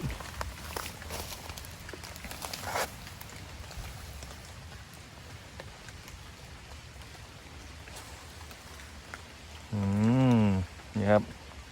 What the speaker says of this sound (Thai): นี้มีฝนตกปล่อยๆ